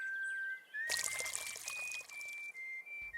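Water pours steadily from a container onto plants, a bright splashing trickle that starts abruptly and runs for a couple of seconds, while a thin whistling tone like a bird call sounds faintly behind it.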